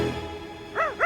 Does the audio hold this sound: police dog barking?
yes